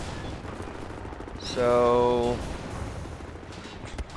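Submachine gun fire in the shooter Wolfenstein: The New Order, a burst of about a second standing out above steady game background, with someone talking briefly.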